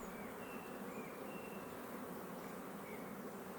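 A dense, steady drone of honeybees swarming around a hive in an apiary, continuous and fairly close, with individual bees whining past over the constant buzz; no speech.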